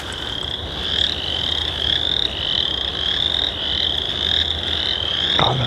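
Frogs croak in a dense, continuous chorus near a creek on a spring trail, a buzzy rattling drone that pulses steadily and fills the space with no voices present.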